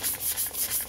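Hand sanding vintage chainsaw plastic with 600 grit sandpaper: about four quick rhythmic back-and-forth scrubbing strokes, close and moderately loud, with no talking.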